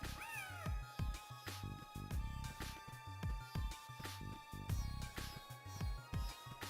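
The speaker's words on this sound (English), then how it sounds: "not only is there a cat to pet" A cat in the video game Phantasy Star 0 meows clearly several times near the start, layered over steady, rhythmic game music that continues throughout at low volume with no talk.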